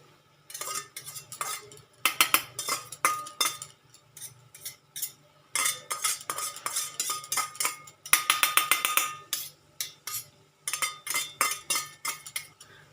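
Maggi noodles are stirred into a masala in a metal pan with a spoon, making bursts of sharp metallic scraping and clinking in rhythmic strokes, separated by short pauses, close and fairly loud, with no voices.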